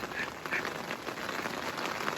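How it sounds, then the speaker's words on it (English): Heavy rain drums steadily as a faint, even hiss of falling water during an off-road trip at Hale Creek, with no voices and a few brief brighter spatters. "Oh dang, it's raining hard."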